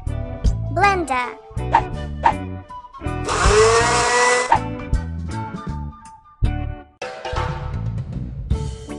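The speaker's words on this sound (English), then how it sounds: "Blender" A blender whirs in the home game My City Home, a bright buzzing burst of a few seconds set among cheerful game music, with a voice chattering around it.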